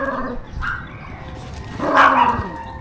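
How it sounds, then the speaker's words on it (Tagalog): Dogs playing roughly on a farm near a pier, close yips, short barks and whimpering snarls in quick bursts over outdoor background noise. "So naglalaro lang naman itong mga aso, no? Hindi naman sila nag-aaway, naghaharutan lang."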